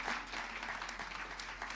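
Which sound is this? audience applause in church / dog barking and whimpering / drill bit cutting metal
audience applause in church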